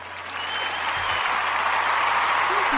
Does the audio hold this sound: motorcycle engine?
no